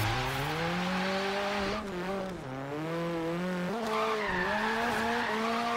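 Mini built for drifting in the Forza racing game, its tires squealing in a long continuous skid over a steady engine drone, pitch wavering as it slides, loud and close throughout.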